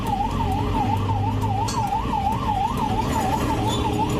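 An ambulance siren wails in a steady, rapid rising-and-falling cycle, loud and continuous, with low traffic rumble underneath.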